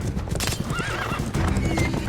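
A horse whinnies with a rising, wavering cry amid steady hoof clip-clops and busy background noise, fairly close.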